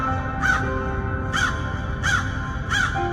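A crow caws four times at steady intervals, loud and close, with a low rumble of background noise underneath.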